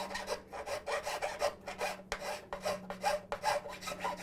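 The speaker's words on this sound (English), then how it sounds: "when we're filing the frets, we're just trying to get them so that they don't stick up over the wood itself" A hand file rasps across metal frets set into a wooden song stick instrument, cutting mainly on the forward stroke, in a steady rhythm of close, scratchy strokes with short gaps between them and no talking.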